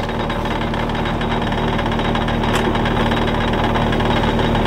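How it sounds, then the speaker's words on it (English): A Harley-powered power rig runs steadily while rototilling ground at a campsite build, its engine a continuous loud drone with a rough, vibrating mechanical hum and no pauses. "we are going to just start rotor tilling this up basically with our power rig"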